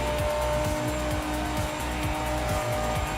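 Lister race car lapping in Project Motor Racing, a loud steady engine roar with rhythmic repeating pulses and a thin tire squeal above, close and continuous, no talk.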